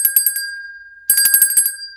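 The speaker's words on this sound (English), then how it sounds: "I have this bell" A small bell with a bicycle-bell tone rings in two quick bursts of rapid rattling strikes, bright and close, with a clear pause between them.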